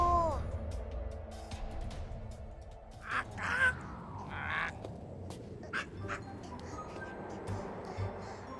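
Black crow in an animated children's series cawing a few times over background music and effects, the calls moderately loud and spaced apart, with no speech over them.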